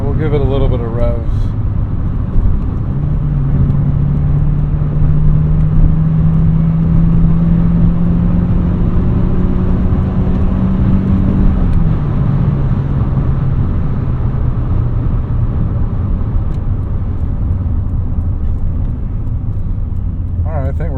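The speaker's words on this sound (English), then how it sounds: "we'll give it a little bit of revs" A classic Honda car engine revs steadily, its low drone rising in pitch through a smooth climb, then dropping back to idle and holding there.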